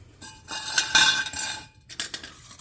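Steel exhaust resonator slid over the tailpipe of a C3 restomod, giving a few bright metallic clinks and scrapes, close and loud, in two short clusters with a brief pause between.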